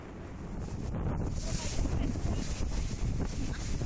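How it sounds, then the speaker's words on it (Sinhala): Strong wind on a mountain road roars and buffets a microphone in steady, loud gusts for several seconds, a dense low rush with no clear voices. "අපි නම් යනකොට ලොකු හුලඟක් ආවා."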